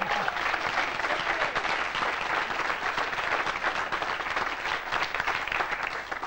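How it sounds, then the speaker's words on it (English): A quiz show studio audience applauds in a steady, dense wash of clapping that holds at an even level throughout, moderately loud with no talking over it. "Give yourselves a round of applause, Blues."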